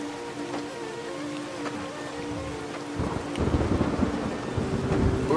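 Steady rain falls over a low thunder rumble inside the video game GORD, with the storm swelling louder and more turbulent partway through, no talk.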